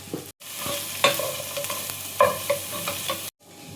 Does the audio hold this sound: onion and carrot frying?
yes